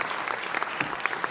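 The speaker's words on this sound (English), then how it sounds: "Let's give another round of applause to our Author Study Club." Audience at a city council meeting applauding, a dense steady clatter of many hands clapping in an indoor chamber.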